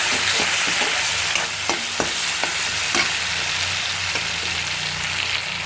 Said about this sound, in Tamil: இதை லேசாக வதக்கிடுங்க பச்சை வாசனை போடுறதுக்கு.